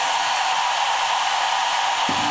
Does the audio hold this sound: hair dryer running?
yes